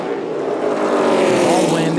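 CARS Tour Pro Late Model race cars roar around North Wilkesboro, their engines climbing steadily in pitch as they charge off the corner, loud and close, with a voice audible over the engine noise.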